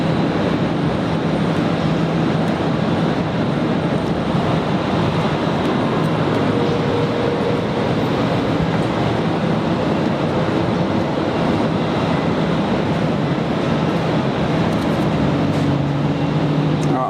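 A dense steady roar runs near Brisbane Airport as an aircraft approaches, broad noise holding level throughout with a faint tonal whine, loud and constant.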